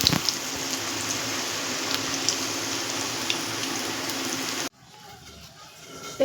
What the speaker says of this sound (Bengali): পকোড়ার মতনই ভাজা হয়ে যাবে।